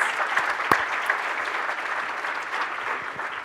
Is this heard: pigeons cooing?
no